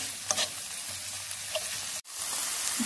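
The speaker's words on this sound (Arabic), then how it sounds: "نخليه يتقلى شويه" Ginger frying in a pan of oil, a steady close hiss and sizzle with a few small pops, briefly cut to near silence just past the midpoint before the sizzling resumes.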